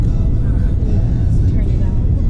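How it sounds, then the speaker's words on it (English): A car cruising on the interstate, with steady low engine and road rumble heard from inside the cabin, continuous and loud, with no clear speech. "We're on the interstate now, so we're out riding around."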